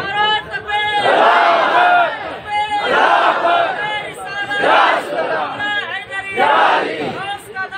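A large religious gathering bursts into loud, rhythmic chanted slogans, four surging shouted waves of many voices in unison with brief gaps between.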